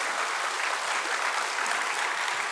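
Dense, sustained applause from a lecture audience at a memorial gathering, an even roar of many clapping hands with no pauses, heard alone without speech.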